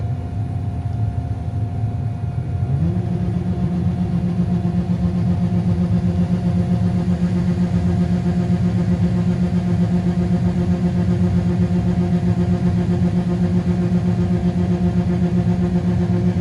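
A combine harvester engine runs steadily while unloading corn in a muddy field, a loud continuous drone that shifts up in pitch early on and then holds, close by with no talk.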